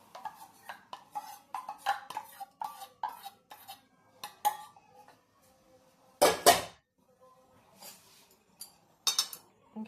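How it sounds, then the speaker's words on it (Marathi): Besan gram flour batter being stirred briskly in a pan over high gas flame while making kothimbir vadi, with repeated close clinks and scrapes of a utensil against the pan and one louder rattling burst near the end. "गॅस फुल करायचा आता आणि पटपट हे हलवून घ्यायचं, म्हणजे त्याच्या गिठोळ्या होणार नाही."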